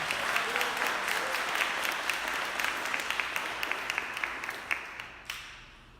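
A church congregation applauds steadily, a dense wash of many hands clapping in a large room, loud and continuous before it thins out near the end.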